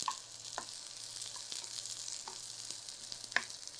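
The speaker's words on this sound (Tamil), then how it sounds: "இதில் வெங்காயத்தில் பாதியை வதக்கிடணும்." Onions sauté in a pan with a steady, close sizzle and crackle, broken by a few light stirring scrapes, under a faint low background hum.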